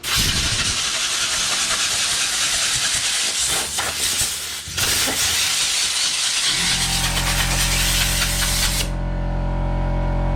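A compressed air gun blasts through a Fiat Panda 169 air filter in a workshop, a loud continuous hiss with a brief dip midway, then shifting to a steadier rushing tone before cutting off abruptly.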